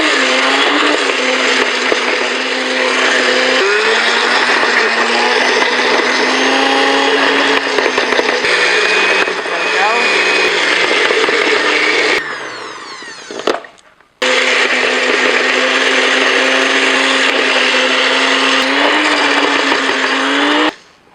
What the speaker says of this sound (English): Now I'm using a food processor because the blender just had a hard time with it